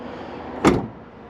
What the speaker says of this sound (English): We'll go ahead and give it the door test. Light slam, closes perfect.